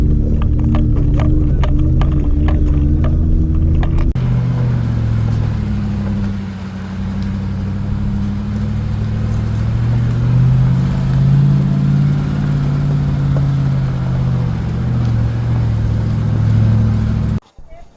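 An AMW 505 overland vehicle pulls a trailer up a steep Ozarks trail in Arkansas, its engine loud and close, with a deep steady drone and a rhythmic knocking early on before the sound smooths into a sustained, slowly varying rumble.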